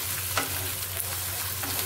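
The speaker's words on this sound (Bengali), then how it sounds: "আদা রসুনটা ভালো করে নাড়াচাড়া করে ভেজে নিতে হবে" Ginger-garlic paste fries with onions in a pan, a soft continuous sizzle broken by a few scrapes of a spoon stirring it, heard close and quiet with no talking.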